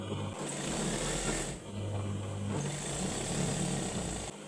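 A sewing machine stitches a dress seam with double stitching in a close, steady whirring run, pausing briefly once before continuing to the end.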